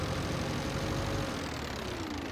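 Valpadana 4655 tractor engine in a farming video game, a steady low drone with a faint whine that slowly falls in pitch, alone and fairly loud throughout.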